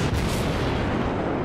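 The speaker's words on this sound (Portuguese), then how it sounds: "O gajo está-me a atirar a mim." Naval gun fire in World of Warships, a heavy booming blast at the start that rolls into a dense, sustained rumble, loud and close.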